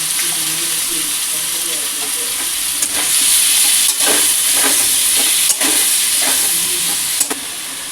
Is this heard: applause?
no